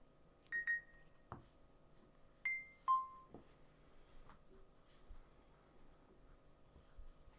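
A phone gives a few short, clear beeps and chirps in quick succession, faint and nearby, among soft scratching like pen writing.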